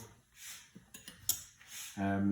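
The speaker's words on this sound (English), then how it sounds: "I'm actually going to bring the pan to the onions and scrape them in." Diced onions are scraped off a heavy chopping board into a pan for a Spanish omelette, heard as a few short, close scraping and tapping strokes, followed by a brief voice.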